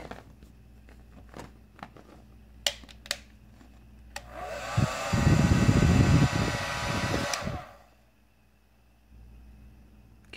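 A Vidal Sassoon 1875 hair dryer converted into a heat gun switches on with a loud whooshing fan roar and motor whine, runs steadily for about three seconds, then cuts off, preceded by a few sharp clicks and handling knocks.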